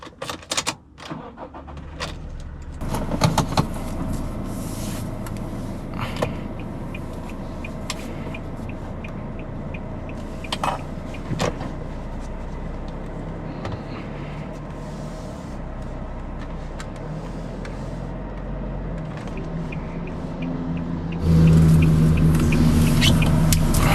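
Car engine turning over and starting, then a steady engine hum and road noise as it drives off, recorded from a point-of-view camera inside, with clicks and rattles and a louder surge near the end.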